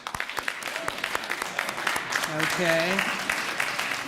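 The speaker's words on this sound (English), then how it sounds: "give everyone else in the room a round of applause." A room full of people at a school honor society induction ceremony applauds, dense continuous clapping throughout, while someone speaks briefly over it.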